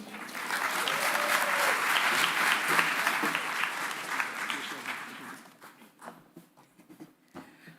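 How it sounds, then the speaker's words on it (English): Sustained audience applause fills most of the clip, then thins into scattered claps and a few voices as it dies away. "Give us one more round of applause just to celebrate us being together"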